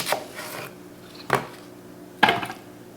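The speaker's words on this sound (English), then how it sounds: "so we're gonna have to do some chopping." A small onion being chopped on a board for smoked chicken and ribs, three separate knife strikes spaced about a second apart, close and fairly soft against a quiet background.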